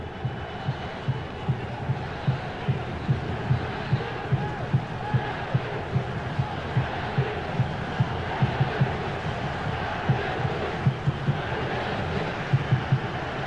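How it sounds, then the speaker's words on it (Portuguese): A stadium crowd at the 2002 World Cup semi-final between Brazil and Turkey chants 'Turquia' over and over, a loud massed roar with a steady rhythmic beat of pulses throughout. "a torcida gritando Turquia"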